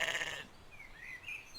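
A little lamb in an animated children's story gives a short, bright bleat, then faint high warbling tones follow in an otherwise quiet scene.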